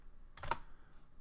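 A brief cluster of keyboard taps on a computer keyboard, close by and quiet, over a faint background hum.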